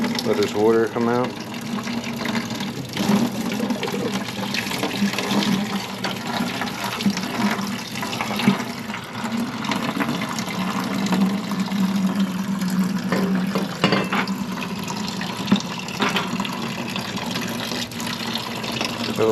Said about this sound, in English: Let this water come out.